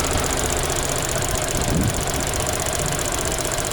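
A Suzuki Cappuccino kei sports car's small engine runs steadily throughout, a continuous loud idle with a rough, knocking mechanical texture and no talk over it.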